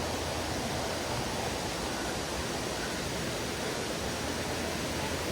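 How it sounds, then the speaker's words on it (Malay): Waterfall at level 5 of Sungai Kanching, Malaysia, pours as a dense, steady, loud roar of rushing water without any break. "Dah sampai air terjun Aras 5."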